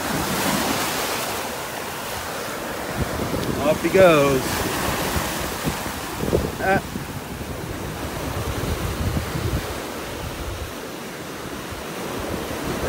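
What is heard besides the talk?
waves washing up on shore, Naples, Florida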